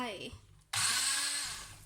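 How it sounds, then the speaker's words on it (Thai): A person speaks, then a loud whirring motor kicks in abruptly and runs steadily, an immersion blender churning zucchini soup up close. "ใช้เครื่องปั่นตัวนี้นะคะวันนี้นี่ จัดการเลยจุ่มลงไป"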